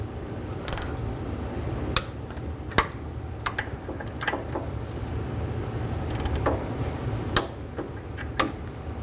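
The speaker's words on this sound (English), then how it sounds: "get these bolts started, and tighten these bolts to 24 foot-pounds." Bolts on a rear brake caliper of a 2005-10 Mercury Mountaineer are tightened to 24 foot-pounds, giving scattered sharp metallic clicks and ratchet ticks over a steady low background hum.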